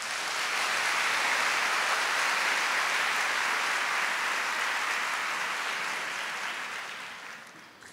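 Church congregation applauding during a Catholic worship service, a dense sustained wash of clapping from many hands that holds steady and loud for several seconds before thinning out near the end.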